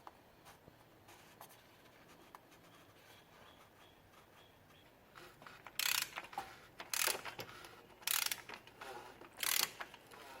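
A torque wrench ratchets while tightening the oil filter housing on a Mercedes-Benz W212 E350, four or five short, sharp clicking bursts close by after a stretch of quiet handling noise.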